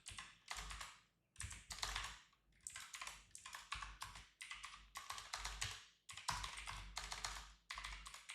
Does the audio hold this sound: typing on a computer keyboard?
yes